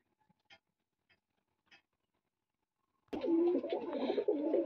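A male and female pigeon pair coo in loud, continuous warbling during the last part, after a few faint, sparse calls and near silence.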